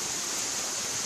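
Steady rushing roar of falling water from waterfalls, a continuous broadband wash with no breaks, fairly loud and close.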